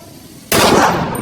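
A single sharp gunshot from a film bursts in abruptly after a quiet half second, loud and broadband with a short ringing decay.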